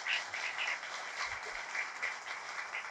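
An audience applauding a speaker at a sales or agents' meeting, a dense, even patter of many hands clapping for about three seconds with no talk over it.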